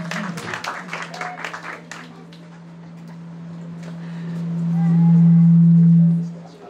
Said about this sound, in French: Applaudissez-la très fort.